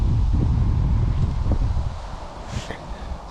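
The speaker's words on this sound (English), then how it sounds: "But the wind's proper buffeting against that brolly." Wind buffets a fishing brolly on a bankside swim, a loud, gusty rumble that rises and falls over a few seconds with some fluttering of the fabric.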